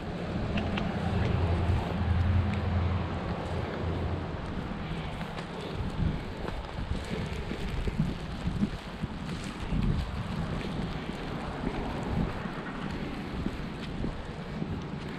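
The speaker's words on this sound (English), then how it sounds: "getting a little bit windy." Wind blowing hard outdoors near water, a constant roaring rush buffeting the microphone throughout, with no pause.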